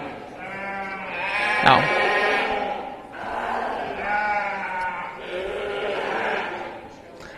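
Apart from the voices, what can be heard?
blackface ewes (Suffolk/Hampshire sheep) bleating at a show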